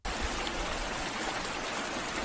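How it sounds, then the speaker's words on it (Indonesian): Nighttime rain at a station in Shizuoka in a Japanese horror short film: a steady, dense wash of falling water that starts abruptly and holds an even rushing hiss, with no voices. "Namun hujan yang turun malam itu membuat Ayaka terpaksa harus menunggu"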